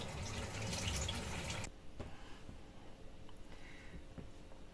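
Soy sauce pours in a steady stream for under two seconds, then stops, leaving quiet kitchen background with a few faint clicks.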